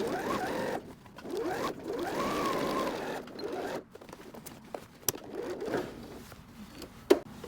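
A sewing machine runs a broken zigzag stitch on jeans, mending an inner-thigh chub rub wear spot, in two long steady runs followed by several shorter stop-start bursts, close and clear with no talk.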